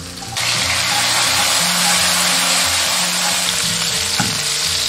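Ginger, garlic and dried radish stir-fry in a little cooking oil, a loud, dense sizzle starting abruptly and holding steady, with faint scraping of a spatula underneath.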